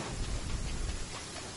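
Steady rain in Genshin Impact, an even wash of falling water with a faint low rumble underneath, continuous and fairly quiet throughout.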